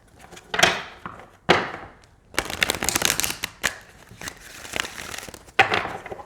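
Oracle card deck being shuffled by hand, several bursts of crisp riffling and slapping cards with brief pauses between, close and fairly quiet, no talk.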